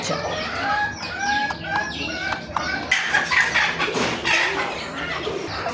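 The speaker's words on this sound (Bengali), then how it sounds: "আরও মুরগি আছে 3 পিস, একটা মোরগ 2টা মুরগি" Domestic chickens, one rooster and two hens, cluck nearby in a series of short, repeated calls, with a busier burst of clucking toward the end and no clear talking.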